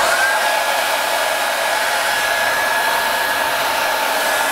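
A ROSPEC hair dryer runs on its first speed mode, giving a loud, steady, close-up whoosh of airflow with a faint constant whine and no variation throughout.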